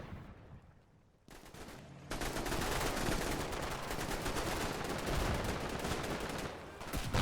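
Dense gunfire from a firefight in the Combat Mission war game, with rapid machine-gun bursts and rattling rifle shots rising after a quieter start and continuing loudly and steadily, with no talk.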